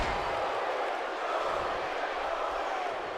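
A steady crowd roar from a WWE 2K18 wrestling arena, a continuous wash of noise that stays at an even loudness throughout with no distinct peaks.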